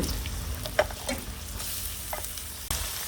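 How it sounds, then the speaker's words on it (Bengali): Onions, coriander leaves and lentils fry in a hot pan, a close, steady sizzle broken by a few spatula scrapes and taps; no talking. "তারপর আমি পেঁয়াজগুলো ঢেলে দিচ্ছি আর ধনিয়া পাতা অর্ধেক তারপর ডালগুলো দিচ্ছি"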